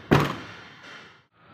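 A manual car door shuts with a single solid, close thunk, followed by a brief fading rattle and a short quiet tail.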